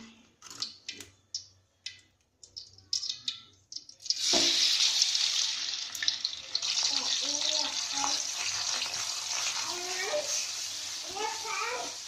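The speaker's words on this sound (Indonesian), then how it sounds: "Tunggu minyaknya panas dulu sebentar. Kita tumis bumbu." Green chili spice paste hitting hot oil for ayam cabe ijo, a loud steady sizzle and crackle that bursts in after several sharp clinks and taps of a utensil, then stays constant with faint stirring.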